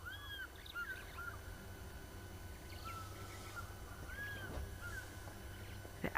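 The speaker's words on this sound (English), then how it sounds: "The African fish eagle, voice of Africa." African fish eagles call from a distance on an African safari at sunrise, faint ringing yelps repeated a few times over a quiet outdoor background.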